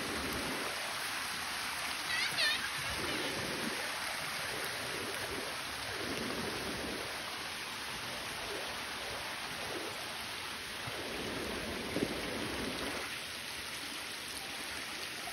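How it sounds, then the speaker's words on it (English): Creek water runs steadily past a Bunyip water pump in a farm creek, a continuous close rushing wash that holds through the whole stretch with no other clear sounds. "You can see it's just creek's just running as normal."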